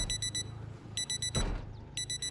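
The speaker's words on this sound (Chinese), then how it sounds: "为什么会有闹钟在响？" An in-game alarm clock rings in the zombie survival game Project Zomboid, with rapid repeated electronic beeps in three short bursts over a steady low background hum.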